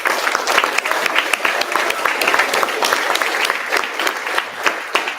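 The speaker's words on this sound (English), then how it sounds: "just another round of applause for John" Applause from an audience at a student demo day event, thick continuous clapping with individual sharp claps standing out, close and loud throughout.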